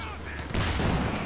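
A tank's main gun fires with a sudden loud boom in Company of Heroes 2, followed by a dense rumbling burst of battle noise, while a commentator's voice is faintly present early on.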